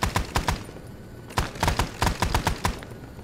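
Helicopter door gunner machine gun fire from a Huey gunship in Arma 3 SOG Prairie Fire, Vietnam setting: loud, sharp bursts of several rounds each, a short burst first, a pause, then a longer string of rapid shots.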